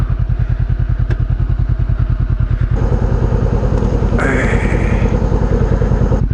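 Motorcycle riding on a corrugated, rocky dirt road, the engine a loud steady pulsing drone with rapid rhythmic thumps and rattles from the rough surface, continuous and close throughout.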